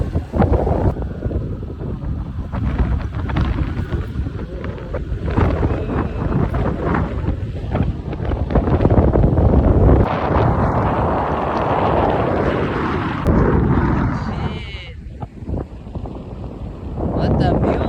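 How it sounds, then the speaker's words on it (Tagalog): Strong seaside wind in northern Philippines buffets the microphone with a constant heavy roar and rumble. Gusts rise and fall throughout, with voices faintly under the noise. "napakalakas ng hangin"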